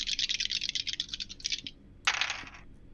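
Dice clatter across a tabletop during a tabletop game, in two bursts of rapid rattling clicks, the first longer and the second brief after a short pause, fairly close and with no talk over them.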